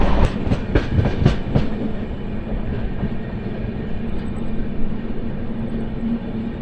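The Simhapuri Express runs on the rails between Secunderabad and Gudur, a loud steady rumble with a few sharp clacks of wheels over rail joints near the start, then continuous rolling noise.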